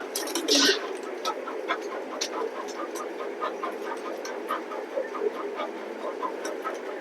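Pigeons kept in a loft give scattered, fairly quiet bird calls and a brief louder burst near the start, set against soft background noise.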